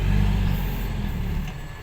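A Hino Mega dump truck's diesel engine at a clay dumping site, a steady, loud low rumble close by with no talk, easing slightly toward the end.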